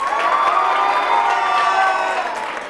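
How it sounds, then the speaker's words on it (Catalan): Crowd at a Canal Terrassa quiz show bursts into loud, sustained applause and cheering for visiting students from Institut Federica Montseny in Badia del Vallès, a dense wash of clapping and whoops that eases slightly at the end. "Aplaudiment"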